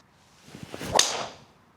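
A single sharp whooshing crack of a Ping G440 K driver striking a golf ball, loud and close, with a brief airy tail afterward.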